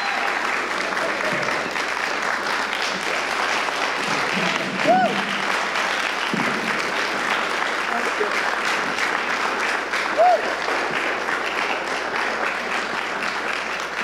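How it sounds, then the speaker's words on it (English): Steady audience applause for Trent and Kirk at a Christian event, a continuous wash of clapping with a couple of brief whistles rising over it. "will you please give Trent and Kirk an awesome round of applause?"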